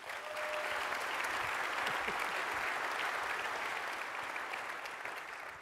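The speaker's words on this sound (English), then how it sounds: "An applause, please." A conference audience applauds at a SOLIDWORKS World general session, a dense, steady wash of many hands clapping that holds evenly for several seconds and fades slightly at the end.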